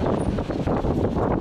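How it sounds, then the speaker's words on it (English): Strong wind buffets the microphone outdoors during car self-starter bench testing, a steady loud rumbling roar that covers the whole moment. "it's too much windy actually"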